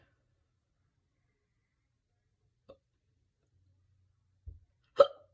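A woman hiccups during a makeup session, three short separate hiccups in near silence, each stronger than the last and the final one sharp and close.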